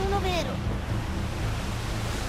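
Steady wind and surging waves on the open sea in Assassin's Creed 4: Black Flag, a continuous broad rush after a brief voice at the start.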